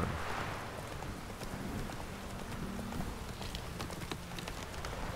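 Game horse hooves clip-clop in a steady trot in The Witcher 3, a rhythmic run of soft footfalls over a constant ambient bed, fairly close and even throughout.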